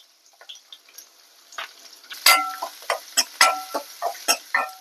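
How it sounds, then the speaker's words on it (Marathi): Chili, garlic and ginger pieces drop into hot oil for tempering, sharp intermittent crackles and spits growing louder midway, close and with no talk. "मिरची फोडणीला घालते, नंतर लसणाचे तुकडे आणि आल्याचे तुकडे"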